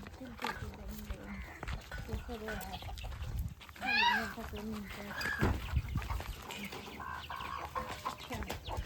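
Chickens let out at a farmhouse cluck and squawk nearby with one loud call in the middle, while people talk throughout.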